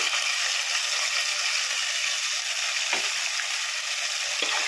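Ground tomato, onion, green chili and cashew paste sizzles loudly in a hot pan for a chicken curry, a dense steady frying hiss with a couple of soft stirring scrapes, no voices.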